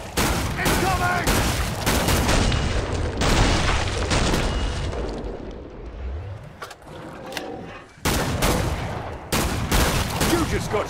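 Sustained gunfire from shooting zombies in Killing Floor 2 on Hell on Earth difficulty, dense rapid bursts and booming shots nearly continuous throughout, with a short lull before heavy firing resumes.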